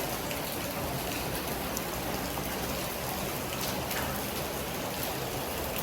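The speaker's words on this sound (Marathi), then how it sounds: "पाऊस पडतोय" Heavy rain falls steadily, a dense and even hiss of drops hitting surfaces that stays constant throughout, fairly close and without voices.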